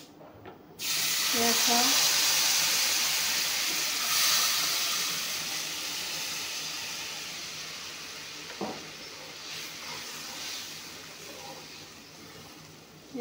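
Spice paste hits a hot frying pan for a fish curry and bursts into a loud, sudden sizzling hiss that slowly fades, with a brief voice over the start.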